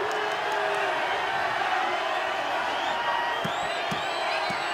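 A wrestling crowd at an NWA Mexico women's world title match reacts to a near pinfall with a steady, loud roar of cheering and whoops that holds across the whole moment.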